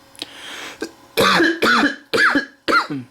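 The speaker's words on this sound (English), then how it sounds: "I'm coughing my brains out." Four loud, harsh coughs in quick succession after a couple of softer throaty sounds, close to the listener with no talking.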